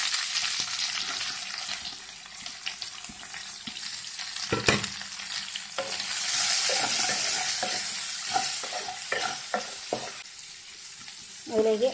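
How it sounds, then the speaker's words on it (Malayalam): Chopped onion dropped into hot oil with popped mustard seeds for a Kerala fish molee, sizzling close up with stirring scrapes and a few sharp pops and clicks over a continuous hiss. "കടുക് പൊട്ടി അതിലേക്ക് നമുക്ക് സവാള ചേർക്കാം"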